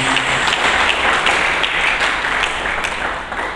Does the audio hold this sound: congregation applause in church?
yes